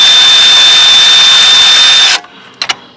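A thread chaser run into the bolt holes of an idler pulley mount on a 52-inch Wright Stander mower makes a loud, steady high-pitched whirring that stops abruptly, followed by a couple of brief clicks.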